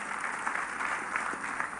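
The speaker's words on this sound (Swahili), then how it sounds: "Wawili wapigiwe makofi kwa heshima kabisa." Steady applause for two honoured guests at a funeral service in Meru, a dense, even clapping texture from a gathered crowd, moderately loud and without speech.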